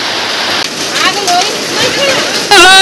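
Heavy rain pouring down during a family outdoor cooking session, a loud continuous hiss that fills the whole stretch, with voices talking over it.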